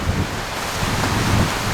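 Strong outdoor wind buffets a microphone, a dense, continuous roaring rumble with heavy low-end gusts and no voices.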